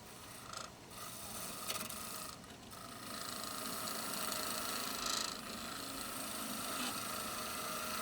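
A wood lathe spins a wooden rolling pin while a 1/2 inch skew chisel works the end, producing a quiet, continuous scraping hiss with a low rumble and a few brief pauses in the cut.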